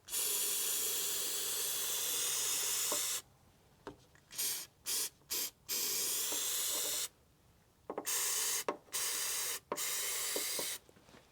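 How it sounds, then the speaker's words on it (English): Sealant sprayed inside the fender of a RAM 1500 DT truck comes as long, loud, hissing aerosol blasts broken by several short bursts and brief pauses. "Now we're going to spray the insides here."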